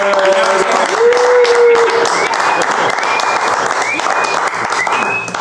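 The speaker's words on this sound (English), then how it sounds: "I'm going to see if I can bleep that out through the applause" A podcast studio audience gives a sustained birthday round of applause, a steady dense wash of clapping that holds loud for several seconds with faint voices mixed in.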